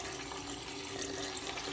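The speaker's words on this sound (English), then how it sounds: "I'm going to apply a little bit of water to the head." A steady, faint rush of running water, as from a tap, continues without pause while water is applied to the head before a shave.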